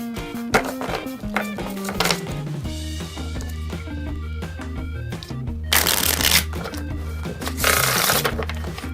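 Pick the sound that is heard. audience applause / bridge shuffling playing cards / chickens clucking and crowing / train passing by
bridge shuffling playing cards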